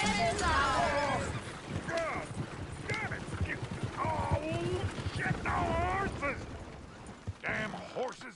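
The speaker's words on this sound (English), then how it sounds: "Damn horses!" Horses whinny and neigh in the Red Dead Redemption 2 video game, with several high shrill calls spread over the scene, mixed with hoof clatter and a busy background, while people talk throughout.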